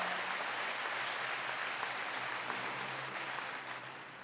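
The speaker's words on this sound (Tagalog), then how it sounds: "Pwede ho bang malakas sa palakpak dahil siya'y karapat-dapat?" Church congregation applauding during a Tagalog sermon, a faint, even wash of clapping heard from a distance that holds steady and then fades slightly toward the end.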